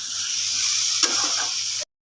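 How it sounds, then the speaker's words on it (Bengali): Potatoes frying in a pan for a curry give a steady, close sizzle with one small pop partway through, then cut off abruptly. "তো আলুর তরকারিটা এখন একটু আলুটা ভাজা ভাজা করে নিচ্ছি"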